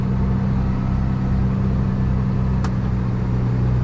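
Valtra T235 tractor engine running while driving, a loud, steady low drone with a constant hum and little change in pitch, heard close from the cab with a brief faint click partway through.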